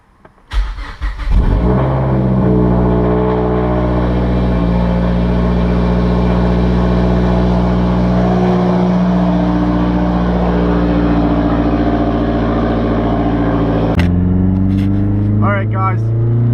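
A Mazdaspeed 3 running on methanol cranks and fires, then settles into a loud, steady close-up idle before a sharp blip of revs near the end, with a voice heard briefly.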